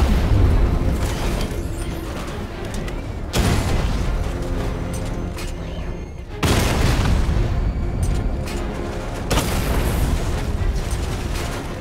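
A Batmobile's 60 millimeter cannon in Batman Arkham Knight fires three heavy booms at roughly three-second intervals, each a loud, sharp burst over a constant rumbling engine and battle din.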